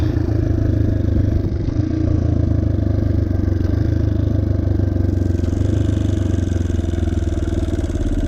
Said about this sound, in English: So here's a downshift without the clutch.